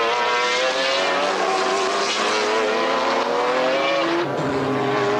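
A GT race car from the 1995 BPR Global GT Series circuit race at Jarama, heard from onboard, its engine roaring loud and steady at high revs, pitch climbing and dipping slightly through gear changes.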